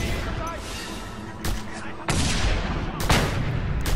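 Heavy gunfire crackles continuously in the video game Just Cause 2, punctuated by several loud blasts, with a voice talking faintly beneath the clatter.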